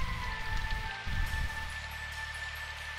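Steady rain falling in the visual novel Symphonic Rain, a soft, continuous wash of drops heard faintly alongside quiet game music tones and low rumbles, with no talking.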